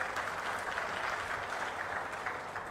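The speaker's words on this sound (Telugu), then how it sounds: "గట్టిగా చప్పట్లు కూడా చెప్పండి" An audience of officials and students at a BC welfare hostel event breaks into applause, a steady wash of many hands clapping at moderate distance that holds evenly for a few seconds without voices over it.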